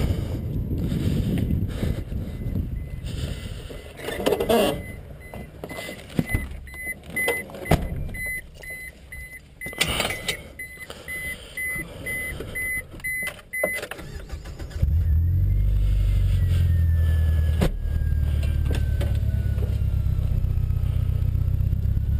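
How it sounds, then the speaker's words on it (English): A 1998 Mazda 626 sets off on a test drive. Early knocks and clunks of doors or windows give way to a steady, close engine and road hum that runs to the end, with no talking. "Well, this is my 98 Mazda 626. We're about to take it for a test drive"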